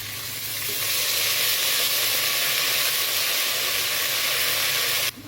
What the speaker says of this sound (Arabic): هاخد الثوم اللون الذهبي الخفيف ده، هنزل عليه بربع كوبايه من الخل